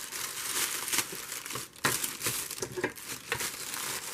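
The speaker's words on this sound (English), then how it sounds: "here's my crinkly package, and I will just take my scissors and open this up" Plastic packaging crinkles and rustles up close, with sharp scissor snips and crackles in an uneven rhythm as it's handled and cut open.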